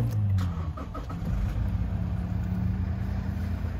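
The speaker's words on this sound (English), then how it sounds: "I'll just start the vehicle up." A Toyota Prado fires up by push button start: a short cranking burst gives way to a steady, close mid-pitched idle hum that runs on evenly with no voices.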